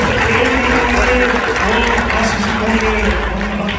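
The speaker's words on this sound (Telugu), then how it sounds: "గట్టిగా చప్పట్లు కూడా దేవుని స్తుతిద్దాం" Steady clapping from a church congregation at a Baptist church's 40th anniversary service in Bhilai, Chhattisgarh, dense and continuous throughout, with a voice talking over it.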